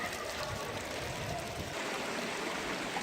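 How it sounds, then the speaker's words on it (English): Water rushing and splashing at Tonto Natural Bridge, a steady broadband roar close by that holds an even level throughout with no talk over it. "Another cool shot of the water coming in behind me."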